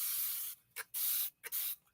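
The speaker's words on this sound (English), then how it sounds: "I'm going to show you if I take this and I spray it onto my hair" Hair product sprayed onto hair from a spray bottle: several sharp hissing bursts close by, one long spray then shorter puffs in an uneven rhythm, with no talking.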